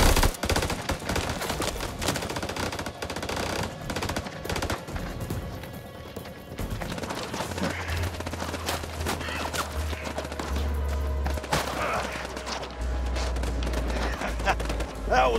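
Gunfire exchange in House of Ashes, a dense loud burst of rapid shots and machine-gun fire at the start, then scattered cracks continuing under shouting voices and a low rumble.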